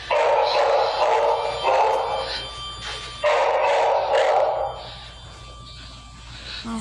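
A dog barks in several loud, close bursts, pausing between bouts before going quiet.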